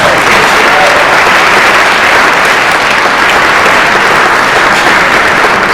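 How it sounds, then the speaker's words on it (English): Dense, loud applause from an audience at a charity podium event fills the whole stretch, steady and unbroken. "Please give them a round of applause."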